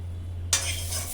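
Fried curry leaves stirred in a pan for a karam podi, a sudden scrape and rustle of a metal spoon against the pan that turns into a steady sizzling stir, close and clear.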